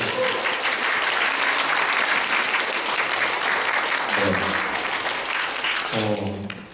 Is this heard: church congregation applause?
yes